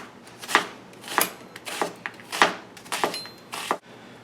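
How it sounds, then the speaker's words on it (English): A knife chopping an onion on a board, heard as about eight close, crisp strikes in an uneven rhythm with short pauses between them. "So there we go, that's 1/2 of the onion chopped."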